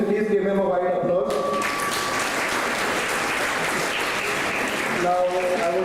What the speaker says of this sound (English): Please give him a wide applause.